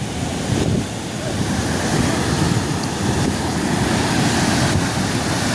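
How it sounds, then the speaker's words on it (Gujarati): River water rushes through the opened gates of the Mokeshwar dam on the Saraswati river, a loud, continuous broadband roar heard from the bridge with no pause. "જે પહેલાં વખતે ગેટ ખોલ્યા ને તોથી થોડું ઓછું પાણી આવતું હતું અને હાલ વધારે પાણી આવે છે"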